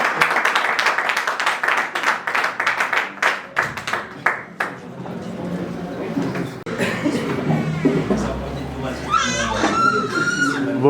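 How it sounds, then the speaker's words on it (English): An audience at a Sierra Leone community launch event in Morocco claps in a burst of applause for a few seconds, then the clapping fades into crowd chatter and voices. "Please let's give him a round of applause."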